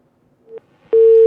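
After a telephone call-in line disconnects, a couple of short clicks give way to a loud, steady electronic line tone that holds to the end.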